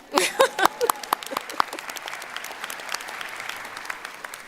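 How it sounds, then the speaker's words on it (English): Audience at a Niagara University undergraduate commencement applauds a graduating senior, opening with a few sharp nearby claps before settling into a softer, steady spread of clapping from a large crowd. "we can clap for Lerma"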